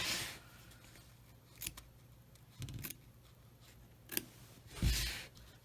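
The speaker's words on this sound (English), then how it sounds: "we're just going to quickly trim around the edge of this plate" Scissors snip around the edge of a fabric mug rug made in the embroidery hoop, trimming close to the stitching in a few short, quiet cuts spaced apart.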